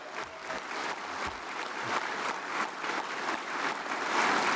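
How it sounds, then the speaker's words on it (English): Steady applause from a large conference audience at a general session, broad and continuous clapping that swells slightly toward the end, with no voices on top. "Let's give them a round of applause."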